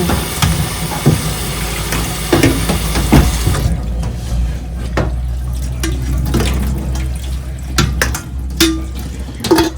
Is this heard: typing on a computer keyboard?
no